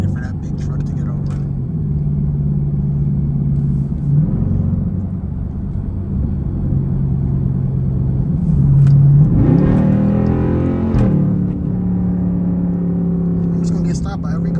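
A Dodge Durango SRT engine rumbles and revs while being driven through traffic, heard from inside the cabin: a low steady drone that swells into a louder rev midway before settling back to a cruising hum.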